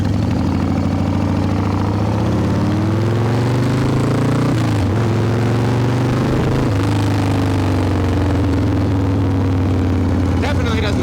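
A Harley Evo Softail with a carburetor being dialed in idles and runs with a loud, steady low thump, the pitch shifting briefly as the throttle is blipped, close by, with people talking over it.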